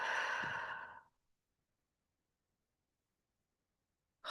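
A single slow, breathy exhale during a guided breathing exercise in a healing session, close and soft, lasting about a second before silence.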